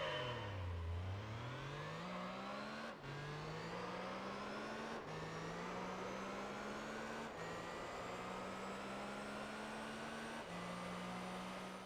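A lowered Suzuki Escudo in Gran Turismo 3 drives flat out, its engine droning loud and steady as pitch climbs through each gear, with brief dips at every upshift, no voices.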